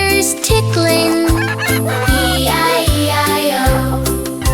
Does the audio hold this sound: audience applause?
no